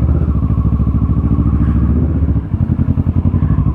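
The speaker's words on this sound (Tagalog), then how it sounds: "ingay-ingay ng motor natin" Big bike motorcycle engine during an early-morning cold start, loud and close, a rapid rhythmic idle thump that briefly dips then settles into a choppier, uneven beat.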